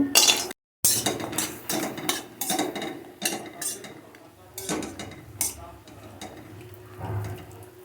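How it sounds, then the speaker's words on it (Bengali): Bori lentil dumplings frying in a little hot white oil in a pan, with clinking and scraping of a utensil against the pan in irregular knocks over a faint sizzle, close and without speech. "তেল গরম করে আমি অল্প একটু সাদা তেল দিয়ে নিলাম অল্প কটা বড়ি ভেজে নেব"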